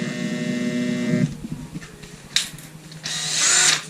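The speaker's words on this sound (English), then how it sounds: "I believe that we don't have enough revolutions in this drill." A power drill whines steadily, then grinds and sputters against a faucet being drilled in uneven bursts, close and loud.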